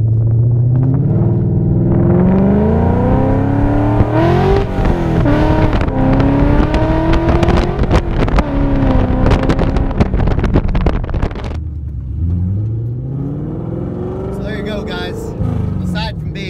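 Loud car engine with a performance exhaust revving hard: a sustained, throaty roar with rising and falling pitch sweeps, close to the microphone, with wind buffeting throughout and easing to a lower idle-like drone near the end.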